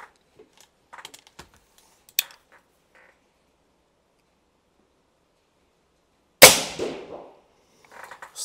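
A Black Bunker BM8 folding air rifle fired with no moderator fitted gives one sharp, loud crack near the end, preceded by a few light handling clicks and taps in otherwise quiet surroundings.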